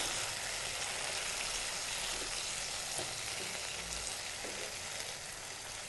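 Brinjal and broad bean pieces stirred in hot oil for a Telugu curry: a dense, even sizzle holds throughout, with a few soft stirring knocks and no talking.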